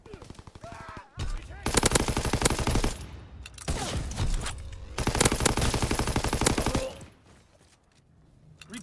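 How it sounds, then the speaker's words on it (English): Rapid machine gun bursts from a fighter plane's strafing run in Call of Duty: WW2, two long loud volleys of dense gunfire with brief pauses between them, fading to quieter rumble at the end. "Fighter pilot inbound. Strafing the target."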